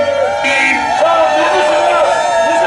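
A rally crowd outdoors in LA shouting together, a sustained loud roar of many voices with rising whoops, continuous throughout.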